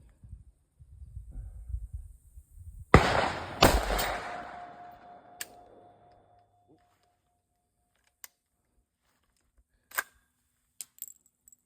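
Gunfire from a rifle with an Atrius super selector trigger at an outdoor shooting range: a loud cracking burst of shots with trailing echo, followed by several sparse single reports, no talking.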